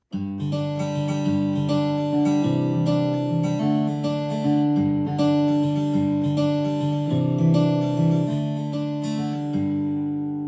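A song intro played on an Aeroband guitar, a steady strummed chord pattern with clean sustained tones running continuously and fairly loud, with no voice.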